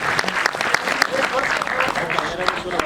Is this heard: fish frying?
no